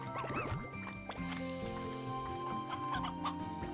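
Chickens cluck in the farming game Slime Rancher 2, with repeated short clucks and squawks over a layer of steady game music and sound effects.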